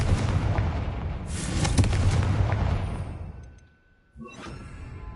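A Confringo blasting spell cast in a fantasy video game, a whooshing build into a loud explosive burst with crackling debris that fades to quiet before a smaller second flare.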